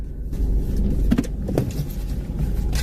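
Motorized whirring of a car's side mirrors folding in electrically, heard inside the vehicle as a steady hum with a few brief mechanical clicks and thumps over low cabin rumble.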